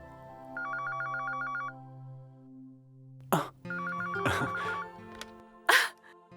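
An electronic telephone ring trills in two bursts separated by a pause, clear and fairly close, with brief sharp noises between the rings and underlying music.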